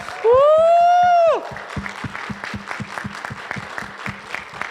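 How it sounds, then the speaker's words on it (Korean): A church youth congregation applauding and cheering for their pastor's birthday, opening with a loud sustained whistle or shout, followed by steady, evenly spaced rhythmic clapping in unison. "박수와 함성 소리 한번 또 보내드리며 감사하겠습니다"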